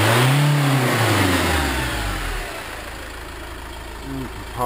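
A car engine revs up toward about 3,000 rpm, a loud low rising roar that settles into a steady high hum before easing back slightly at the end.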